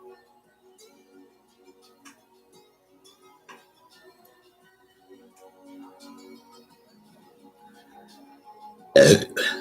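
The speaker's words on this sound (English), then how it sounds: "Had to burp." A single loud, abrupt burp near the end, close to the microphone, following several seconds of quiet room ambience with faint ticking.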